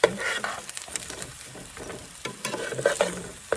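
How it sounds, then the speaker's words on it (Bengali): Eggplant frying and steam-cooking in a pan with very little oil, giving a soft, uneven sizzle and crackle with scattered pops and stirring scrapes, close by and with no voices. "আর এতে স্টিমে কুকিং হচ্ছে অ্যাকচুয়ালি। বেগুন তো যতটুকু তেল ছিল সেটাকে চুষে নিয়েছে, স্টিমে কুকিং হচ্ছে"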